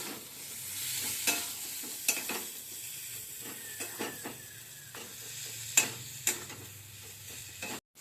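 A spoon stirs a sweetened gourd filling in a pan over a gas flame, scraping the pan in irregular strokes over a steady, low sizzle. The stirring is close and moderately loud, and no one speaks.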